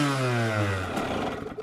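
A small two-stroke Yamaha YZ85 dirt bike engine, running rich with plug fouling, revs up sharply, its pitch sweeping high, then sputters and crackles loudly as the revs fall away.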